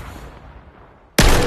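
A single loud shotgun blast from the VR shooter Vail VR cracks in suddenly and sharply after a stretch of low background rumble, ringing out close and full to the end.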